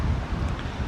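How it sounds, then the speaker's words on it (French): Strong wind buffets a microphone in a vegetable garden, a steady, loud, low rumbling roar for under a second with no voices. "J'espère que mon filtre contre le vent est assez efficace parce que ça souffle très fort."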